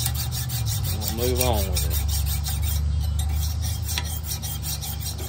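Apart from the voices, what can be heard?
hand filing bevels of a forged blade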